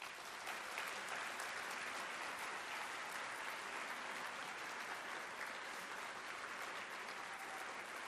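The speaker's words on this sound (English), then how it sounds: "Please join me in a round of applause for all these colleagues." A conference audience at a professional association's presidential address gives sustained applause, a dense, even rush of many hands that is fairly soft and continues unbroken throughout.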